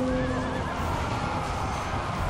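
A horse neighs loudly in a Medieval II: Total War battle, a rising and falling whinny over a dense, steady din of combat and hooves, with no talk.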